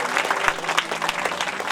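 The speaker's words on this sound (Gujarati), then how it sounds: "તાળીઓના ગડગડાટથી આપણે વધાવી લઈએ" Applause at a family gathering honoring an elder, a close, lively round of many hands clapping in quick irregular bursts, steady throughout the short span.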